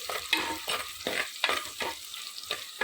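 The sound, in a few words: sautéing shallots, garlic and green chilli in sesame oil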